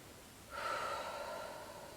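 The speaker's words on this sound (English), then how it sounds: "you breathe 3 deep breaths" A single deep, slow breath during a slow vinyasa yoga session, a soft airy rush starting abruptly and trailing off gradually, close and alone in a quiet room.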